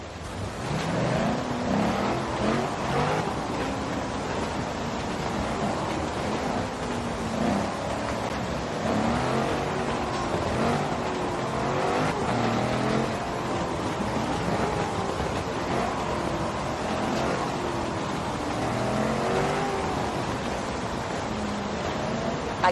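A Range Rover Sport SVR driving in Forza Horizon 4, a steady, continuous engine and road drone with a broad, even roar throughout, no voices present.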